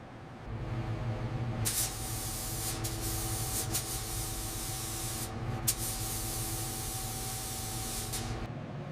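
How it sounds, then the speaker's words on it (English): Gray primer sprayed onto a 1976 Ford Transit van, heard as a steady compressed-air spray hiss in several sustained bursts over a constant low compressor hum, with no talk. "first coat of gray primer going on the Ford Transit, covering up that Rosso red finally"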